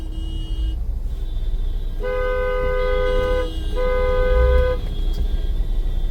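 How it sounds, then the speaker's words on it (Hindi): Two long, loud car horn blasts sound one after the other over a steady low rumble of traffic on an Indian road. "बजने लगे ना हॉर्न ही हॉर्न पीछे से।"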